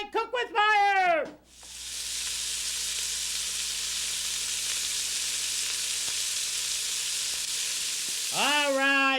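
Light cream hits a hot pan for an ancho fettuccine primavera sauce, giving a loud, steady sizzle that runs unbroken for several seconds while the sauce is tossed, with someone talking briefly before and after.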